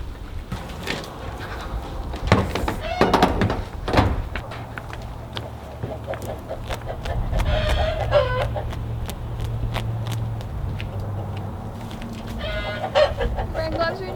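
A hen held on a pasture farm for slaughter clucks and squawks in repeated close bursts, with occasional louder outcries and soft voices in the background.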